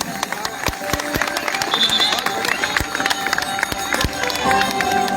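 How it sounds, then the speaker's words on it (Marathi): Audience at a college Aashadi Ekadashi tree procession (dindi) in Nashik clapping to encourage students, sharp scattered claps ringing out over a murmuring crowd with voices throughout. "आपण सर्वांनी पुन्हा एकदा टाळ्यांचा गजर करून विद्यार्थ्यांना प्रोत्साहन द्यायचे आहे."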